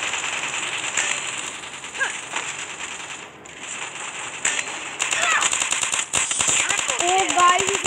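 Gunfire in the mobile shooter game Free Fire: sharp bursts and single shots crack at irregular intervals over a busy game soundscape, with denser firing toward the end.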